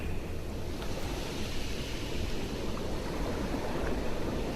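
Ocean waves on a beach, a steady, soft wash of surf with a low rumble and airy hiss, continuous and fairly distant with no voices.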